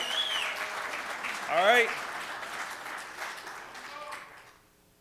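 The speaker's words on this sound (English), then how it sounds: "let's hear a round of applause for the" Crowd applause and cheering for the Eagles at a workplace event, a mid-distance burst of clapping with whoops that swells briefly then fades away, as someone speaks briefly over it.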